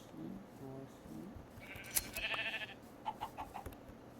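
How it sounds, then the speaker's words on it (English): Blocky sheep in Minecraft bleat several times, a short run of bleats followed by another burst, fairly close and clear with no talking over them. "More sheep, more sheep."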